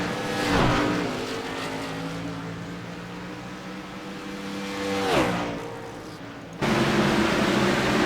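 Stock race cars at Auto Club Speedway roar past in two distinct loud pass-bys with falling pitch, a sustained engine drone between them, then a sudden louder close engine note at the end; no talk.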